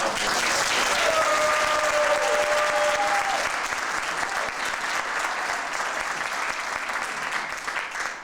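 A large audience gives a varsity sports team a sustained round of applause at a 1999–2000 season gathering, loud, dense clapping that fills the room for over eight seconds, with a whistle or cheer rising briefly early on.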